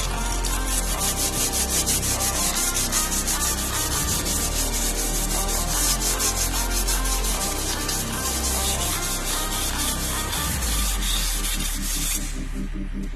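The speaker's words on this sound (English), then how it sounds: "use the 400 grit sandpaper to make it smooth" Steady rubbing of 400 grit sandpaper across a rusty brake drum, loud and continuous with a quick back-and-forth rhythm, close by and alone, stopping just before the end.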